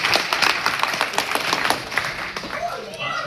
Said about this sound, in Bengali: সবাই একটা হাততালি দিই তার।